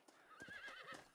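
A horse whinnies in a Western-themed video game, a short, faint rising-and-falling neigh lasting about a second with a soft clip-clop beneath it.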